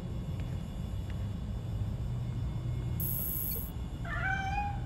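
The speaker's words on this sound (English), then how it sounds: "Aw, that sounds like a stray cat." A stray cat in the video game Gotham Knights gives a short rising meow near the end, heard over a steady low ambient rumble.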